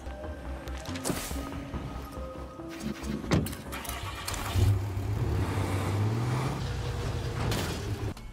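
A car in the zombie survival game State of Decay 2 has a door thump and engine start, then drives off with a steady low motor drone that rises and holds, preceded by scattered clunks and movement sounds.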